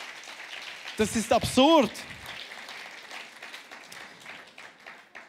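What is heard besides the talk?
audience applause for Raffi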